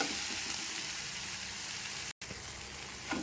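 Broad beans and green beans sauté in a pan for a gravy, giving a steady soft sizzle that runs on alone with one brief dropout near the end.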